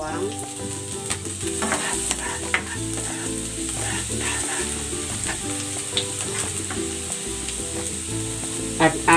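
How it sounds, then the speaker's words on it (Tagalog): Ginger and garlic sautéing in cooking oil in a pan, a dense bright sizzle with frequent stirring clatter and utensil taps, close and continuous with no voices. "Igigisa ko na tong luya. Lalagay ko na rin itong bawang."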